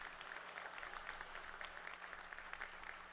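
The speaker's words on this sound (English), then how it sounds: "The smart people are clapping." An audience at the New York Economic Club applauds, a faint, distant and even patter of clapping that carries on steadily under a low hum.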